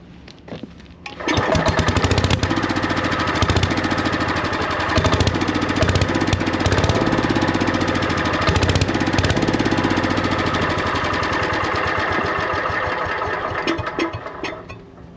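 Loud and near, a Lincoln Weldanpower welder-generator engine, long unused, runs on starting fluid with a rough, slightly uneven drone that starts abruptly and holds for over ten seconds before tapering off.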